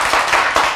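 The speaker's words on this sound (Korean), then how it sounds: "박수!" A congregation applauds during a church sermon, producing a brief, dense burst of loud clapping that fills the room with steady, overlapping claps.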